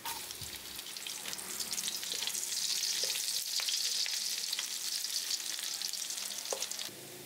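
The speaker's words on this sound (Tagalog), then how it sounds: "dito na tayo mag-uumpisang maggisa ng ating bawang" Garlic sautéing in oil rendered from milkfish for paksiw na bangus, a dense, steady hiss of frying that swells and holds, with a few faint stirring clicks, close but fairly soft.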